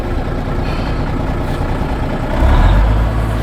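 A 1978 Oshkosh truck engine runs loud and close with a steady low rumble, then swells into a heavier rev near the end.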